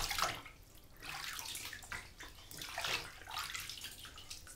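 Water splashes repeatedly in a bathtub as a baby plays, with broadband bursts of sloshing and slapping in an uneven rhythm, close and moderately loud, no voices.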